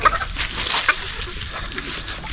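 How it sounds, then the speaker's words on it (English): A black cockerel clucks nearby in short throaty bursts over faint outdoor homestead background noise. "That's a black cockerel"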